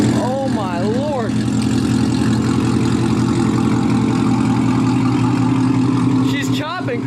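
A C7 Corvette fitted with new headers and an X-pipe exhaust plus a tune idles with a deep, steady, lumpy rumble close by, while excited voices talk over it at the start and end.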